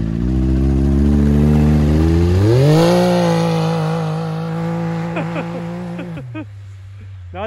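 A 2021 Ford F150 Limited pickup revving on a lawn, its engine climbing to a higher droning pitch, holding, then dropping off, loud and close, with faint squeaks near the end.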